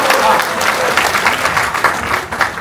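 Loud, dense applause from a book concert audience for an author, steady clapping filling the room for a couple of seconds with some voices blended in.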